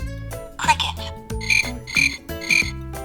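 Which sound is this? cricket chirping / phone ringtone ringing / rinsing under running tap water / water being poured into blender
cricket chirping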